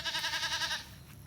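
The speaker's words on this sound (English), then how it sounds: "Where are the little goats?" Little goats on a farm in Culaba, Biliran, Philippines give one loud, close, quavering bleat lasting under a second, followed by quiet outdoor ambience.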